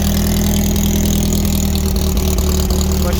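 A VW-engined sandrail idles steadily after a cold start on a chilly day, its air-cooled engine chugging loud and close with an even, unbroken rumble and no talking.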